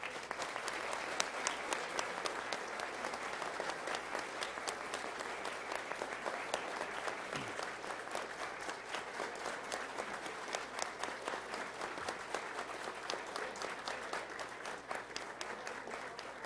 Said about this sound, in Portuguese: vamos saudar os nossos grandes homenageados neste momento com a mais honorífica salva de palmas